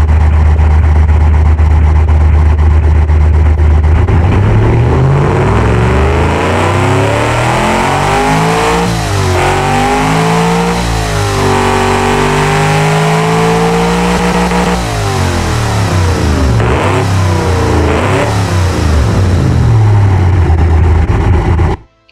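A simulated carbureted car engine in a driving game cranks to life, idles low, then climbs through several long revs that rise and fall before settling, loud and close with no talk.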